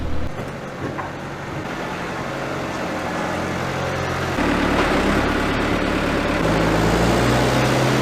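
A tractor engine runs with a steady low rumble and drone, holding constant and growing somewhat louder and heavier partway through, with no voices.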